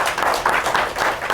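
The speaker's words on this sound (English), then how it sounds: "if we could get one more round of applause" Brief burst of audience applause in a lecture setting, a lively patter of many hands clapping at close to moderate distance, steady throughout the short moment.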